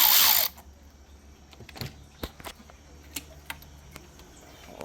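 Ratchet working an 8 mm bolt on a coolant heater hose of an Infiniti G37, faint scattered clicks and ticks close by after a brief loud burst at the start, no talking.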